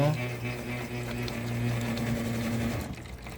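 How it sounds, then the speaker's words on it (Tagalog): A coin-operated water vending machine under repair runs its dispensing pump, a steady mechanical hum with a whirring buzz and water flowing, which stops abruptly near the end. "nagdi-dispense po siya ng tubig"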